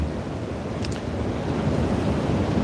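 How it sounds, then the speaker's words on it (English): Strong wind gusting around a hunting ground blind on a stormy morning, a steady loud roar of buffeting air across the whole stretch with no talk. "You can hear the wind in the background"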